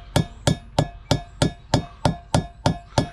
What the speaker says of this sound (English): Get your small hammer, just tap it.